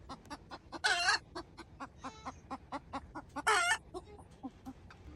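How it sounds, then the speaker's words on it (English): A hen clucks in a steady, quiet series of short notes, with a chick sheltering beneath her. Two louder, harsher squawks break in, one near the start and one near the end. "It seems like the chicken has like 4 paws, but it's the little chick hiding beneath."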